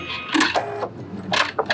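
Sewing machine back stitching along bias tape on a bias facing, a few short close bursts of rapid mechanical stitching broken by brief pauses.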